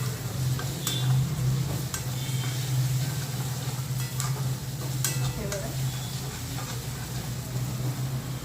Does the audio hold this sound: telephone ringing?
no